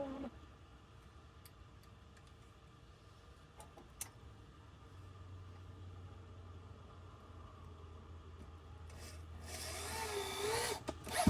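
Quiet indoor background inside a camper van at a rainy rest stop, then a power drill whirs up loudly for a couple of seconds near the end.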